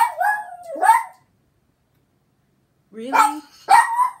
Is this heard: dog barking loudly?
yes